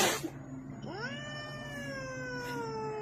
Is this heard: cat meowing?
yes